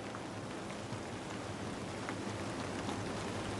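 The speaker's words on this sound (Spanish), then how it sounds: "Está lloviendo a cántaros." Dense, steady hiss of heavy rain pouring without pause, broad and even, with no voices.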